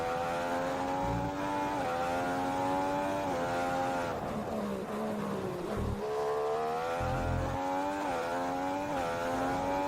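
High-revving Formula One car engine from the F1 2015 racing game on the Hungary circuit, running a rich fuel mix: a loud, continuous harmonic whine rising and dipping with gear shifts and throttle changes, heard alone.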